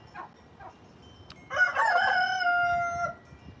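A rooster crows once, a long, loud, clear cock-a-doodle-doo that rises and then holds steady, preceded by a few faint chirps and clucks in a quiet outdoor setting.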